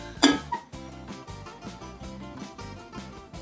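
A small plate clinks onto a pot of meatless cabbage rolls, one sharp near ceramic contact, followed by faint rhythmic knocks and kitchen handling sounds.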